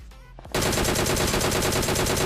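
In PUBG Mobile, a loud, rapid burst of automatic gunfire cuts in after a brief quiet moment and then hammers on without pause in a fast, even rhythm, close and dominant.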